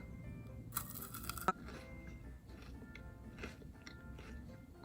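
White chocolate crisps from an advent calendar being bitten and chewed close up, with a sharp crunchy bite followed by steady soft munching and crackling.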